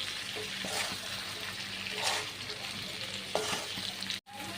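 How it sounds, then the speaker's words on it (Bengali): Fried potatoes, soybean chunks and egg are stir-fried with spices in a pan, a steady close sizzle broken by occasional spoon scrapes and a brief clatter near the end, with no speech. "দিয়ে সব মশলার সাথে ভালো করে কষিয়ে নিতে হবে।"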